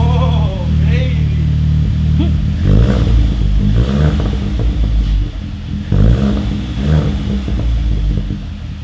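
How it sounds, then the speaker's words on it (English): A Volkswagen Tiguan with its muffler deleted and a B2BFAB Tiggy Pipe fitted idles with a deep, loud rumbling exhaust, then revs in several repeated pulses, with voices talking faintly underneath. "super excited about the sound of his newly modified Tiguan exhaust"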